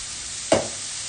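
Seared pork and onions go into a very hot pan with one sudden loud sizzling burst that quickly fades into a soft, steady hiss of frying.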